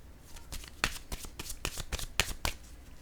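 A deck of playing cards is shuffled close by in a series of quick riffling bursts and soft flicks with an irregular rhythm.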